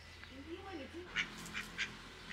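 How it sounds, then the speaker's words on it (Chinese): A goose on a rural farmstead in Meinong, Kaohsiung, gives a few short honking calls, fairly close, between and under bits of casual talk and low background hum. "他是鹅、喔。"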